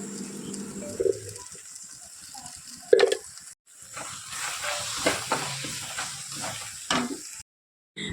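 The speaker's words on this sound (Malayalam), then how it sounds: "ഇത് നല്ലപോലെ അതിൻ്റെ പച്ചമണം മാറുന്നത് വരെ നന്നായിട്ട് ഒന്ന് ഇളക്കി യോജിപ്പിച്ച് കൊടുക്കണം" Spice powders and tomato being stirred in a frying pan make a soft, continuous sizzle, broken by a few sharp scrapes and knocks of the spoon and short quiet gaps.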